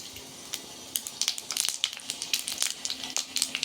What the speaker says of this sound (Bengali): তেলটা গরম হয়ে গেল পাঁচ ফোড়ন দিয়ে দিলাম